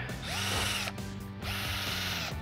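Switchdriver 20V cordless drill/driver running a pilot bit, a steady close whirring motor hum in two bursts separated by a brief dip, with ratcheting mechanical clicks beneath, no talking.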